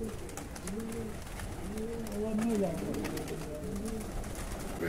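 A large flock of over a thousand pigeons coos softly in repeated low warbling calls, fairly distant and faint, over an outdoor background.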